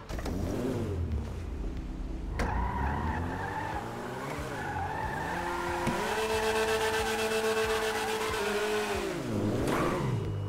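A car in GTA 5 with a real-life mod, driven hard: the engine revs and climbs while tires squeal in long skids, loud and close, with shifts in pitch as it accelerates and slides.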